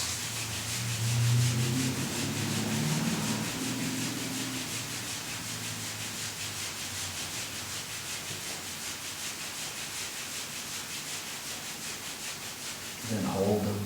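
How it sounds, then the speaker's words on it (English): Palms rubbing briskly over the kidney area of the lower back during a qigong self-massage, a soft steady repetitive friction sound, fairly quiet and continuous, with a faint murmur near the start. "Rub hands again, rub kidneys,"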